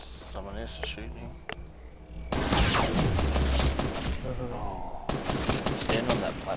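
Gunfire in the video game Fortnite erupts as a loud burst of rapid shots partway through, then resumes toward the end, with people talking over the shooting.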